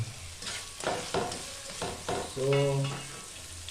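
Marinated, fully seasoned chicken hits a hot pan and fries with a steady sizzle, stirred and shifted in several scraping bursts that swell loudest near the end, close and up front with a brief spoken word.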